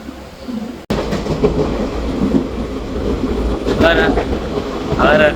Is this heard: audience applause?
no